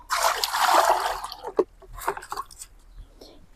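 Water splashes and trickles steadily onto the soil at the base of a curry leaf plant for about a second and a half, then thins into scattered drips and small splatters, close by.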